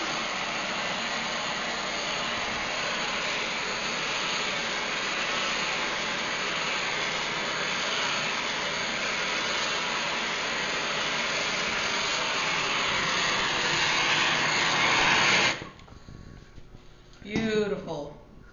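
A handheld kitchen torch roars steadily and loudly as it caramelizes sugar on top of a dessert, then cuts off near the end, leaving someone speaking briefly.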